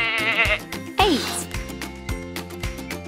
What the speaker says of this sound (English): It's a sheep with teal hoofs.